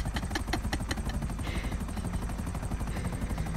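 Helicopter in the video game GTA, a steady rotor chop and engine drone running continuously at a moderate level, with a low rhythmic pulse throughout and no break.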